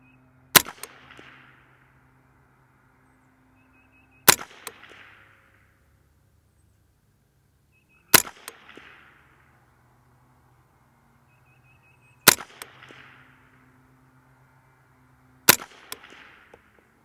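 Five single shots from a Kriss DMK-22 rifle fired at a target, each a sharp loud crack followed by a brief ringing tail. The pauses between shots are roughly even, about four seconds apart, with no talking.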